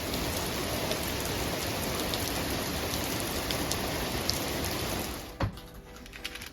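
Steady, dense rain pours down close and loud without pause, then suddenly thins near the end to a few scattered, lighter drops.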